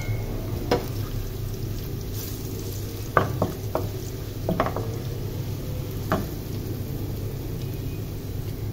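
Cumin and crushed red chili hitting oil with browned onions in a fish and guar curry pot, a soft steady sizzle broken by a few sharp spoon knocks and scrapes, close, no voices.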